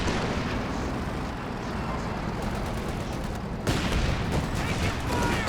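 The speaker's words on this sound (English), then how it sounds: "We have the bazookas coming in for some damage on the Panzer IV." Bazookas firing at a Panzer IV in Company of Heroes 2, a dense, continuous barrage of blasts and rumbling battle noise mixed with game effects.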